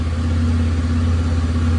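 A cold Honda CB 300 motorcycle engine idles at a raised, steady speed, a close, continuous low rumble with no voices.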